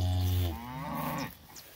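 A cow from a grazing herd moos once, a long deep low-pitched call outdoors in a field, moderately close and alone.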